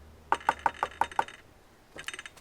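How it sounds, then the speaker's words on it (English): A series of six evenly spaced knocks on a door, close and crisp, followed after a short pause by a quicker, softer cluster of raps. "she heard a knock at the door"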